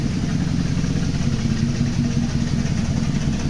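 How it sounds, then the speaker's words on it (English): A Mercedes W124 engine idles while misfiring, a steady, loud low rumble with an uneven pulse close to the microphone and no voices. "It's still misfiring."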